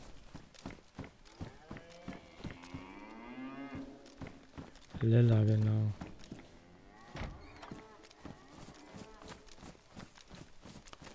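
Cows in the video game DayZ give one loud, close moo lasting about a second, heard mid-clip over footsteps and game ambience, while someone talks before and after.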